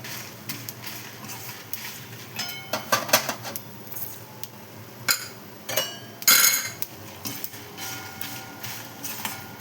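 Chana dal and coriander seeds dry roasting in a pan: a metal spatula scrapes and clinks against the pan in scattered, uneven bursts, light rattling and stirring with a few louder knocks, close by and without talk.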